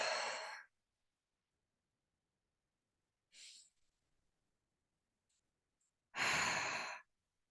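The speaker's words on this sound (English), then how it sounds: "Maybe take 3 deep breaths." Three deep, breathy exhales during a guided tapping and meditation session, the first and last long and loud, the middle one shorter and softer, separated by near silence with no talking.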